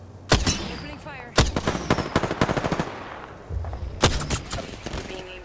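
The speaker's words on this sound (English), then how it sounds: "Opening fire." Bursts of automatic gunfire in Apex Legends, several sharp volleys of rapid shots close up with short pauses between them, alongside in-game voice lines.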